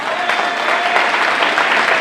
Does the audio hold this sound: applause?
yes